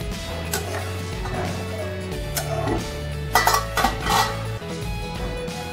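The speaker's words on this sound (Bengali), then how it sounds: "এবার ঢাকাটা খুলে দেখি কতটা হলো।" A cooking pot's lid is lifted off during the making of Bengali fish curry with pui greens, potatoes and fish simmering inside. Brief metallic clinks and a clatter stand out over a steady kitchen background hum.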